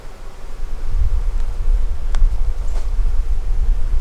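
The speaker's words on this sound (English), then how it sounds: "this is a busy hive" Honeybees buzz steadily in a busy hive during a winter inspection, a dense close drone with low rumble that holds throughout, a few brief higher whines from bees flying near.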